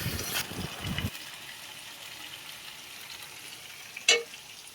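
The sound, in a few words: stir-frying chicken with Malabar spinach stalks in a pan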